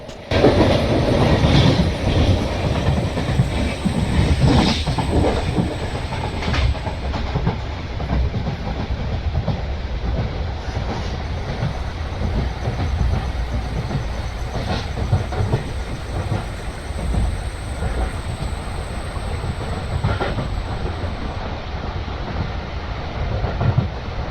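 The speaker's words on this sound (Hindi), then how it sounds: "तो चलिए अपने ट्रेन को हम ब्रेक लगाना स्टार्ट करते हैं" Simulated Kottayam-Nilambur Express (16326) train in the Railworks game slowing under braking, a steady loud rumble of rail running and clickety-clack with hissing, continuous throughout with no talk.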